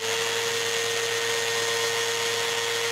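A linear sander on a wooden door frame drones steadily and loudly throughout, a constant buzzing whir with a fixed hum and no pauses.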